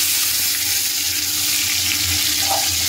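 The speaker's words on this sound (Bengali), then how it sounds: "এইবার আমি ওই মাশরুমটাকে পুরো কড়াইতে ছেড়ে দেবো।" Mushrooms fry in hot oil in a wok, giving a loud, steady, close sizzle that holds evenly without pause and has no voices.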